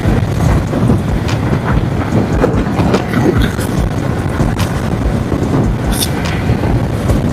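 A Honda SP 125 motorcycle, a 2025 model, running flat out at top speed on an empty four-lane road, its engine drone buried under heavy, constant wind roar across the microphone.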